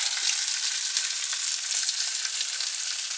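Food sizzles in a hot pan during cooking, a dense continuous crackling hiss that holds steady and close throughout, with no talking.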